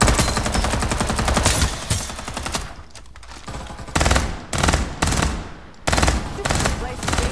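Dense automatic gunfire from the video game Farlight 84, loud rapid bursts in several long strings with short pauses between them and a quieter gap in the middle.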